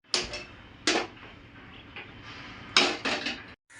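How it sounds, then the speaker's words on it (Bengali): A metal wok is set down on a gas stove burner, giving sharp clattering knocks in two bursts a couple of seconds apart, close and fairly quiet, with no talking. "বন্ধুরা এখন আমি গ্যাসের ফ্লেমে কড়াই চাপিয়ে দিয়ে পেঁয়াজ আর শুকনো লঙ্কা"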